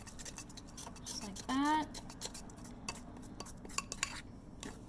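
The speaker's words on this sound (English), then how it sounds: "Just gonna give it a mix." A utensil clinks and scrapes against a bowl as milk is stirred into a sweet glaze, giving light, irregular taps. Someone speaks briefly partway through.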